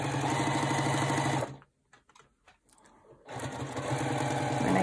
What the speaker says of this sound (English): do a little back stitch to hold it in place, gives it a little more durability